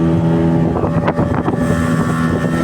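A speedboat roars on the water close by, its engine droning steadily under wind noise on the microphone.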